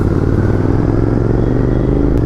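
A motorbike cruising at about 80 on a highway in South India, with a steady engine drone and wind rumble that stay loud and continuous throughout.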